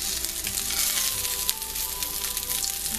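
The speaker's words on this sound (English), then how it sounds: "Ooh, listen to that sizzle." Fish fingers sizzle steadily in hot oil in a frying pan, a dense continuous crackle with small pops, close and fairly loud, with no voices.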